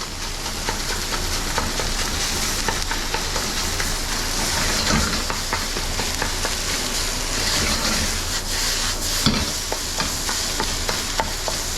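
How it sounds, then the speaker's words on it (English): Egg being broken up and stirred in a hot pan of bacon and egg fried rice, with a steady, continuous sizzle and scraping stir running throughout, fairly loud and close with no talking. "We're going to break up the egg."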